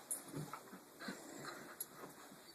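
A small dog whimpers softly in short, high whines with faint panting between them, quiet and close.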